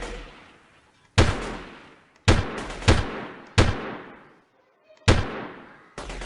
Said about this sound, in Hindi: ये देखिए कहाँ से तो कहीं से तो गोली चल रही है